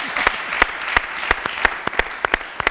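A church congregation claps to acclaim Jesus, with sharp, fairly regular hand claps close by over a steady background of crowd applause, and no voices standing out.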